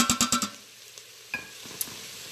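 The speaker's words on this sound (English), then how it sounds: "give this one more stir. Onions are softening up nicely." Softening onions stirred in a sauce pot for Instant Pot meat sauce: a quick run of five metallic clinks and scrapes, then a low sizzle with a few scattered knocks from the spoon, close by.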